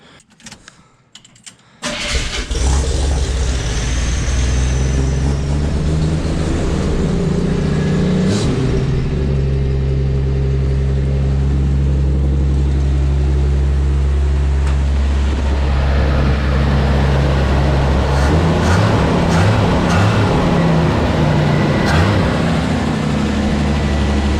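Chevrolet Squarebody truck cranking over and catching, then running loud at a high cold-choke idle, a heavy steady rumble close up with slight revving changes.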